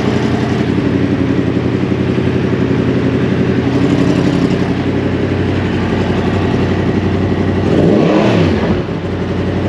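A 2023 Yamaha MT-10 motorcycle engine runs loud and close, a steady throbbing roar that swells in a rev near the end, with no talking.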